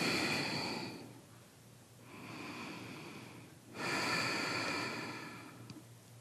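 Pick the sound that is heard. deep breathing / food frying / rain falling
deep breathing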